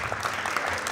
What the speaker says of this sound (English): graduates, can you give your parents a round of applause?